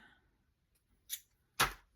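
Scissors are handled during a craft session, giving two sharp, brief clicks or snips close by with near silence around them.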